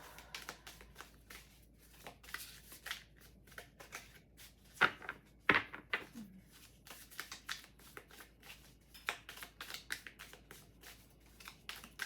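Rapid riffling and flicking of playing cards being shuffled, a dense run of crisp papery taps with a couple of louder snaps midway, close and alone.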